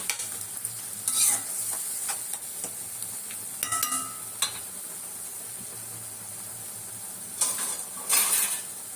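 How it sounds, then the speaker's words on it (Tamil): Onions and tomatoes sautéing in a pan sizzle softly and steadily, broken by a few scraping stirs and a metallic clink of the spatula, close and moderate. "வெங்காயமும் தக்காளியும் கொஞ்சம் பச்சை வாசனை போட்டோம், நல்லா வதங்கட்டும்"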